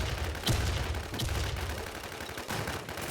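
Gunfire in the Thai multiplayer shooter Midnight: a sustained stream of muffled shots and bursts stays dense and fairly loud throughout, with brighter cracks standing out near the start and again toward the end.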